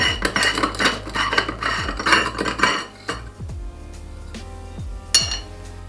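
Glass clinks and clanks while an old glass bottle is cooled with ice to crack it for cutting, a busy run of rattling knocks giving way to a few sparse, ringing taps, with no voices.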